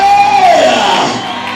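A church congregation cheers loudly during a worship service, with high trilling ululation and whooping rising over a dense crowd roar before fading slightly.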